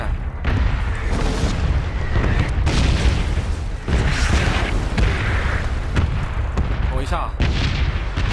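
Heavy booms from a bombing zone in the PUBG video game rumble loud and continuous. Deep blasts overlap one another throughout, and a voice speaks briefly over them.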